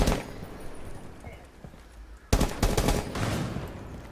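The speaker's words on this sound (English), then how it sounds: "Well, she's using a shotgun," Shotgun fire in the game Rainbow Six Siege, a sudden loud blast midway followed by further rapid shots and gunfire, after quieter game noise and faint voices.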